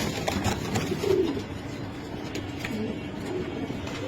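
Budapest pigeons, kept as healthy show birds for sale, coo softly beneath a busy background of room noise and scattered clicks, their low throaty calls rising and falling without clear speech over them.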